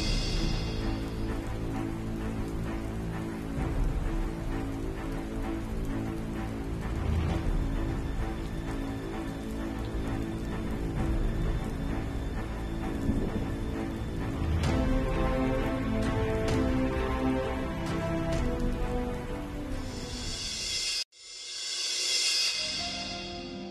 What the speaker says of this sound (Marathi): महाराज, पावसाच्या धारा वाढतायत